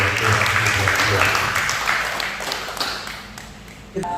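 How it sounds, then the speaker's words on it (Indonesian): Congregation applause at a church worship service in Sydney, a steady wash of many hands clapping that fades gradually, with talk and music faintly beneath. "Sudah beri tepuk tangan yang meriah."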